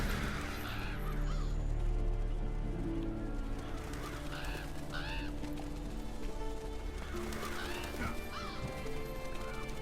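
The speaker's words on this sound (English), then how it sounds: "Seems the black birds are the culprits. Revoltures. They're scavenger birds that enjoy large monsters' leftovers." A flock of Revoltures, black scavenger birds in Monster Hunter: World, giving repeated harsh caws and squawks over a steady ambient background with low rumbling.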